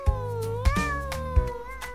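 Kittens from an interactive foam-paper book meow in three short, clear, close cries in quick succession, with no talking.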